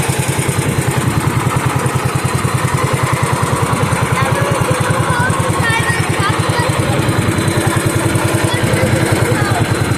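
A Bolens garden tractor engine runs with a loud, close, rapid putter, steady and unbroken as the tractor reverses off a trailer after a tractor show. A voice speaks faintly under it.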